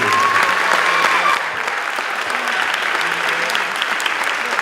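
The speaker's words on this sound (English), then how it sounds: "Please, everyone, give a round of applause for these wonderful young people" A crowd at an 8th grade graduation applauds the promoted students, a full, steady round of clapping with a faint tone under the start, continuing evenly throughout.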